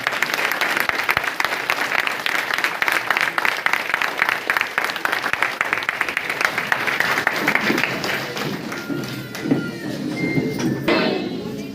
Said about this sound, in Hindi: तालियों में कम नहीं है, जबरदस्त तालियां होनी चाहिए।